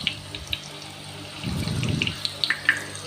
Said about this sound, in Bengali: তো আমি এখানে কয়েকটা ভেজে নিচ্ছি। ধীরে অল্প আঁচে আস্তে আস্তে ভাজতে হবে